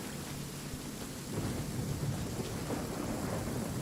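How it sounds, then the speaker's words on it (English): Steady rain with a low thunder rumble in a video game, a continuous wash of noise that swells slightly partway through, with no voices. "It is raining. It's raining."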